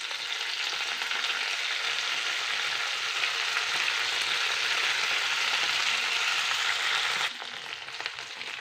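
Chillies sizzle steadily in a hot pan with mint, a dense, loud frying hiss that runs continuously and eases slightly near the end, with no voices.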